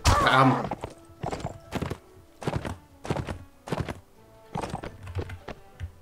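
Horse hooves pounding at a steady gallop in the video game Mount & Blade, a regular run of close, thudding beats after a louder opening impact, with no talk over them.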